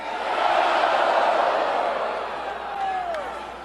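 A big crowd at a Donald Trump campaign rally in Everett, Washington, cheering in a broad sustained roar that peaks early and slowly eases, with scattered whistles cutting through.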